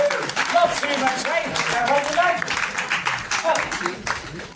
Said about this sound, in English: We have a winner here. Well done. Round of applause.